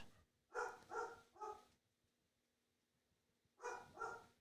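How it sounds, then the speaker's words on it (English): A pet dog barks in two bursts, three quick woofs then a pause and two more, muffled and somewhat distant in an otherwise quiet room. "My dog is barking."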